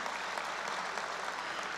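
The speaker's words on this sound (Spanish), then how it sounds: "Un fuerte aplauso, por favor" An audience at a constitutional law panel applauds steadily. The dense, even clapping stays faint and distant for a short stretch with no talk over it.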